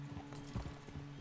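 Horse hooves clip-clopping at a steady walk in the video game Red Dead Redemption 2, a soft rhythmic patter over a low background hum, with no talk.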